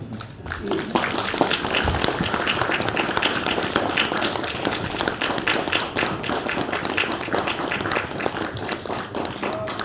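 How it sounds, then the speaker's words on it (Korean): Audience applause at a policy forum marking the launch of an institute, dense steady clapping filling the room, with some voices mixed in. "진흥원의 출발을"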